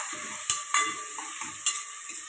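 Bottle gourd cooking in a pan sizzles steadily while a spatula stirs it in a few quick, close scraping strokes, with no talk.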